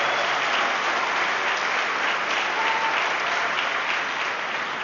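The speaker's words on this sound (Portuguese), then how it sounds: "Dê uma salva de palmas." A church congregation claps loudly and steadily for several seconds, a thick, continuous wash of many hands with no speech over it.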